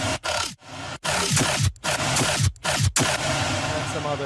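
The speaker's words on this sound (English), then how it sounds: "Same thing, just higher octave saw wave." Layered synthesizer saw-wave bass patches, including a higher-octave saw, give a dense, loud, buzzing bass riff in rhythmic bursts, cut by short gaps and heard alone with no post-processing.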